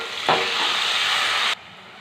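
Onions, green chilies, curry leaves and turmeric stirred in plenty of oil for a potato biryani give a loud, steady sizzle that surges as stirring begins and drops away abruptly after about a second and a half.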